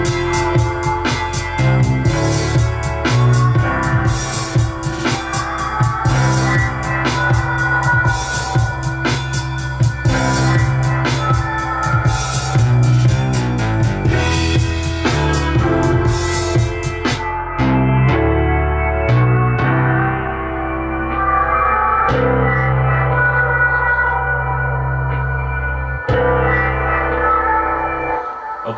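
A loud hip hop beat made on an MPC Studio, with punchy drums and bass layered with sustained strings; the drums drop out partway while the strings and bass continue.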